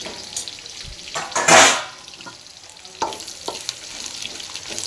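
Bitter gourd fries in a pan under a steady sizzle, with a loud burst of hissing near the start as it's stirred, followed by lighter scrapes and taps of a spatula. Nobody speaks.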